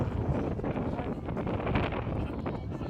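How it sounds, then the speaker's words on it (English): Gusty morning wind at a youth baseball game rumbling across the microphone in uneven bursts, fairly faint and continuous, with no clear speech. "A little bit windy this morning, but not too bad."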